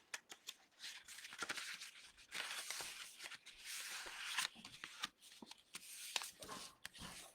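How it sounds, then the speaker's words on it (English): A bone folder presses and creases folded origami paper, producing quiet, close scraping and crisp rustling strokes in short irregular bursts. "using the bone folder to make it nice and tight"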